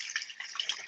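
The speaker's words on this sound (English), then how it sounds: "Getting some water here in case you're wondering what is that crazy sound." Water running from a tap, a steady splashing hiss with small bubbling variations, quiet and close, no voices.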